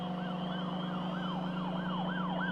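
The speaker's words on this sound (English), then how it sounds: "he heard police sirens in the distance" Wailing police sirens rise and fall in a repeating pattern over a steady background hum, sounding somewhat distant but clear.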